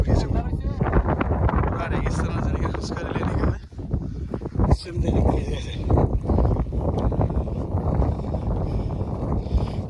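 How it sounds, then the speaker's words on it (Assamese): Wind blows dust across a sandy desert stretch in Assam. It sounds as a continuous rough, low rumble buffeting the microphone, with brief dips and gusts. "ইয়াতে বতাহ আহি থাকে"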